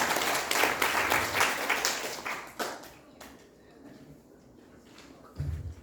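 An audience at a lecture event claps, dense and fairly loud at first, then thinning into a few scattered claps that fade into quiet room noise, with a low thump near the end.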